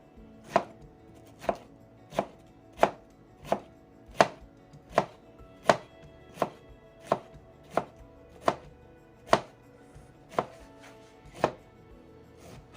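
A knife chops through fresh pineapple on a cutting board in about fifteen steady, evenly spaced strikes, each a crisp close thud, with no talking.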